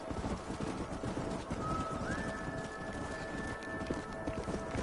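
Horse hooves clip-clopping at a run in Red Dead Redemption, a steady rhythmic patter over continuous outdoor ambience, with a thin whistling tone drifting in partway through.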